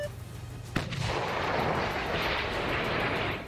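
A Russian howitzer fires with one sharp blast, and a long, loud roar of the shot follows it and fills the rest of the moment, with no voices present.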